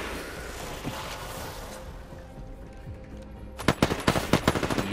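Gunfire in the Apex Legends firing range: after a quieter stretch, a rapid burst of automatic shots rings out sharply, close and loud.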